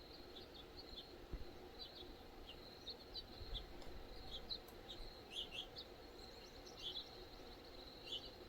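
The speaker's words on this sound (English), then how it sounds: "Those are those house finches." House finches chirp at a bird feeder by a pond in a Chihuahuan desert homestead, scattered faint high tweets over a quiet outdoor background, distant and intermittent.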